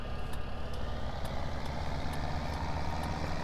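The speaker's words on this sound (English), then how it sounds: "you won't have a tractor just idling everywhere" A tractor engine in Farming Simulator 17 idles with a low, steady rumble, moderately loud and continuous with no voices over it.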